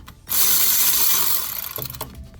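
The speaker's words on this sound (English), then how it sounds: "We're using a 40mm socket with a Milwaukee M12 ratchet." Milwaukee M12 cordless ratchet with a 40mm socket removing bolts on a 2012 Kia Soul rear wheel bearing plate: one loud, close, buzzing whir of about a second and a half, then brief clicks and clanks.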